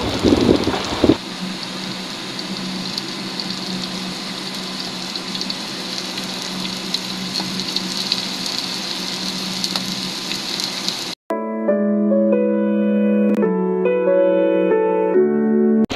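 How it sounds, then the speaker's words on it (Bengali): Eggplant slices frying in hot oil give a steady, even sizzling hiss that lasts about eleven seconds before cutting off abruptly as music takes over. "এখন তেল দিয়ে দিচ্ছি। বেগুনগুলো ভাজবো।"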